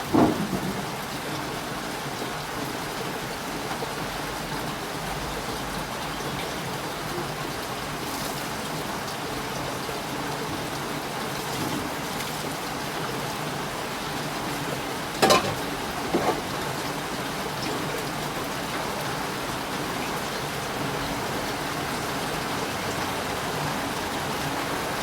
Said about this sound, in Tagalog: Umulan na po, umulan.